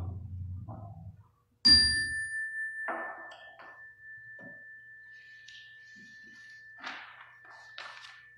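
A bell at the First Universalist Church of New Madison is struck once, its clear tone ringing on and slowly fading for several seconds, with scattered soft thumps and knocks around it.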